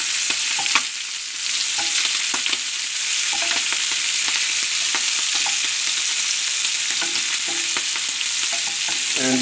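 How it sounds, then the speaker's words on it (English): Shrimp fry in a hot pan for a shrimp and noodle dish, with a loud, constant sizzle broken by clicks and light taps as the pieces are flipped one by one. "And we now flip all the shrimp"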